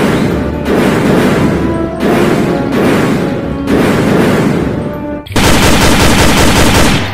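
A toy M16 gun blasts a loud electronic firing effect, four long rattling bursts separated by short breaks, then a denser continuous burst to the end, very close and alone without speech.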